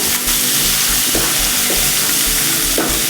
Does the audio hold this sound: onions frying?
yes